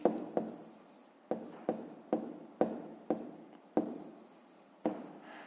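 Pen writing on paper during a fifth-grade maths exercise, heard as a series of short scratchy strokes in bursts, each starting sharply and trailing off, close and moderately quiet with no speech.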